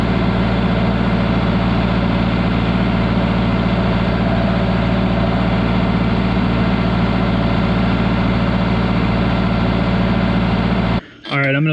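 John Deere 450 crawler engine running hot at a steady 1800 RPM, a loud, unchanging low diesel rumble that fills the clip before cutting off abruptly near the end.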